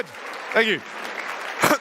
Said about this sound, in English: Big round of applause as she joins me, please.